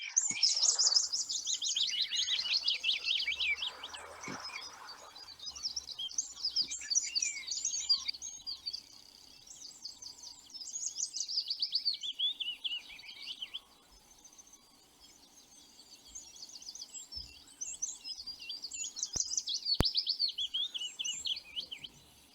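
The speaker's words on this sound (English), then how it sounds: "so that's the willow warbler" A willow warbler sings its descending warbling phrases, repeated several times with pauses between, clear and fairly close against a quiet background.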